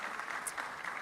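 Brief burst of steady audience applause at a fintech summit session, a soft, even patter of many hands clapping.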